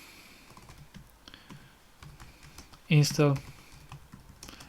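Soft, rapid keystrokes on a computer keyboard typing a Linux terminal command, faint and steady throughout, with a short burst of speech breaking in near the middle.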